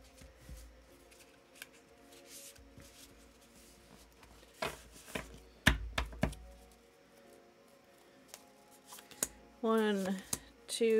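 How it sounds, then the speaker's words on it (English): Tarot cards being shuffled by hand, soft rustles and sharp riffling snaps at scattered moments over a low background, with a voice speaking briefly near the end. "Let me shuffle."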